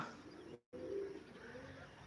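Pigeons cooing softly at a distance, low throaty coos drifting under a steady outdoor hush, with a brief dropout partway through.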